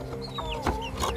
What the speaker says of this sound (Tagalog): Bakit parang kaunti na lang yung manok nyo?